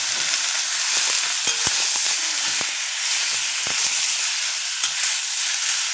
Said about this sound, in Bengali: অল্প একটুখানি তেল দিয়ে দিয়েছি, চিকেনটা এবার আমি দিয়ে দেবো।